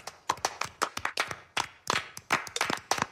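Scattered audience clapping from a sitcom crowd being judged by an applause-o-meter, a few hands striking unevenly in bursts rather than a full ovation, fairly close and without talk.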